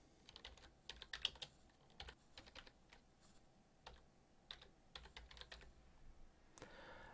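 Someone types on a computer keyboard, entering text that includes an accented character. The keys give quiet, uneven bursts of clicks in a soft, close-miked room with no talking.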